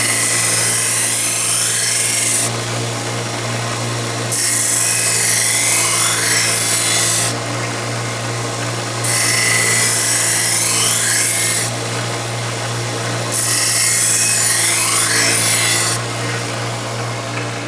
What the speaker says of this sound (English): I'm going to take a few more passes with the 600 grit before I step it up to the 8.